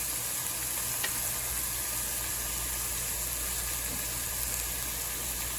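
Steady, dense sizzling of bacon frying in a hot pan, a constant crackling hiss with occasional pops, close and continuous.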